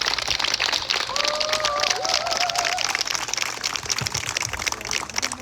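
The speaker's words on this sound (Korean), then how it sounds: "여러분 뜨거운 박수로 임정은 예비후보를 단상으로 모시겠습니다." A crowd applauds a preliminary election candidate at a campaign office opening in Jeju, producing steady, dense clapping throughout, with some voices heard beneath it.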